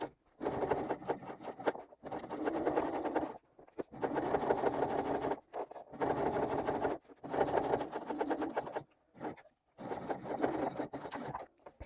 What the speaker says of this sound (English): I will be sewing straight along on this lining piece just below that fold